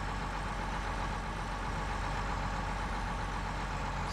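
A Case International harvester in Farming Simulator 19 idles with a steady, loud, unbroken engine drone and a low rumbling hum, heard alone with no talk.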